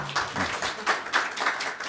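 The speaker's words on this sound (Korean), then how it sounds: "다시 한번 큰 박수 부탁드립니다" An audience applauds steadily after a lecture at a breakfast forum, a dense wash of many hands clapping in a room, holding at an even level throughout.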